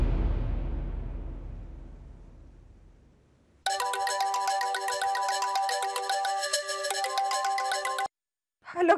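A mobile phone rings unanswered, its ringtone playing as a steady, loud repeating melody for several seconds, then stopping briefly and starting again. It follows a fading low rumble.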